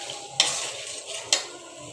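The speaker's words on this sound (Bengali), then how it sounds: "এখন চিকেনটাকে আমি ভালো করে বেজে নিয়ে তারপর লাউটা দিয়ে দিব" Chicken fries in a pan under a steady close sizzle, broken by two sharp scrapes of a spatula stirring it, with no talk.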